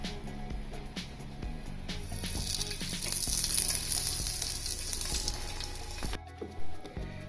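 A vegan shimeji mushroom burger patty sizzles and fries steadily in a pan, with a constant hiss and a few light scrapes or taps as it is handled, alone at close range.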